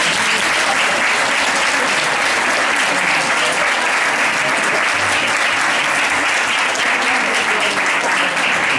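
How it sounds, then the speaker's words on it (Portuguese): A large audience gives Odete Jorge a loud, sustained round of applause. The dense clapping stays even and unbroken throughout. "uma grande salva de palmas naturalmente"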